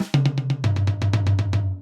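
A drum kit plays a quick fill built on doubles and drags, with about a dozen rapid, evenly spaced snare and tom hits rolling across the kit over a booming low tone, loud and close with no talking.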